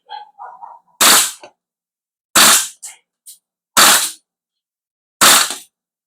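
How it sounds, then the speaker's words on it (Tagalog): Airsoft HK416 rifle firing on rapid fire, four loud, sharp, close cracks spaced about a second apart, with small clicks and rattles between them. "Kita nyo, rapid fire natin mga airsoft."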